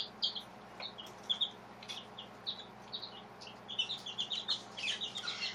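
Several pet birds chirp loudly and close by indoors. Their sharp, quick chirps come in irregular bursts and grow busier and denser toward the end, with a faint steady hum underneath.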